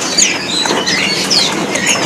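Birds of the Poxei type kept as stock in a bird shop, with scattered high chirps and calls and some wing flutter over a busy, noisy background, fairly close throughout.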